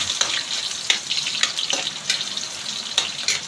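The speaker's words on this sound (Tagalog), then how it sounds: "lagyan natin ating bawang" Garlic fries in a pan for a breakfast of adobong sitaw, a close sizzling hiss broken by repeated short scraping or splashing bursts, with no one talking.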